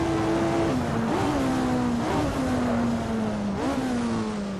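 Lotus 49 race car engine in the Assetto Corsa video game, a loud, constant high-pitched drone that rises and drops as gears shift, with brief dips and surges over nearly five seconds of steady roar, no talking.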